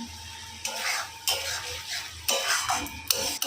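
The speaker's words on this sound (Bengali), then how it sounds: "আর এদিকে মাছের কারির জন্য মশলাটা কষাচ্ছি" Close, scraping stirs of a thick paste frying in a pan, with bursts of sizzle and occasional utensil clinks.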